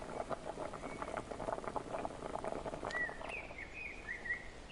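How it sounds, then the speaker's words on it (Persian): Homemade sekanjabin syrup simmering down until thick, a soft bubbling patter with faint chirps in the background, quiet and steady. "باید اینقدر بجوشه که قوام بیاد"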